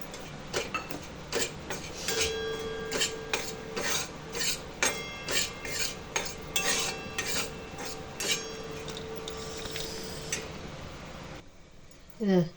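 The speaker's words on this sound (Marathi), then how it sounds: "बेसन भाजायचं रवा पण त्याच्याबरोबरच भाजायचा" Gram flour and semolina being dry-roasted together in a pan, stirred with a spoon in a steady run of rasping scrapes and light clinks, fairly close, with a faint voice in the background.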